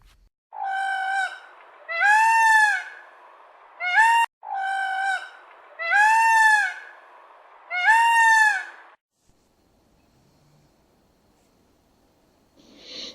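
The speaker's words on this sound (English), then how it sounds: "Peacock." A peacock calls in a run of loud, drawn-out, nasal wails, about six in all, each rising and falling, close and alone, followed by near silence and a faint sound at the very end.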